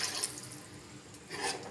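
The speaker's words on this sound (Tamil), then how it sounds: "நம்ம குழம்புக்கு தேவையான அளவு தண்ணி சேர்த்துக்கலாங்க" Water from a rinsed mixer jar splashes into a pot of broken-egg curry, a soft, faint pouring sound with no talking.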